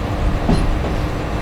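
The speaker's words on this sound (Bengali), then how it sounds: "এখন আবার ছেড়ে দিল Agnibina express train Kamalapur railway স্টেশনের উদ্দেশ্যে" Agnibina Express train pulling out of Airport railway station toward Kamalapur, Dhaka, a steady close rumble of rolling railcars with a faint brief squeal, no talk.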